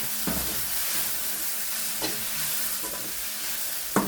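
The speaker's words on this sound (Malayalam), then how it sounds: "ചുണ്ടും ഇളക്കിയിടാം" Turkey berries and beans cooking in a pan give a constant sizzle, broken by a few spoon scrapes spread across it and a sharper knock at the end.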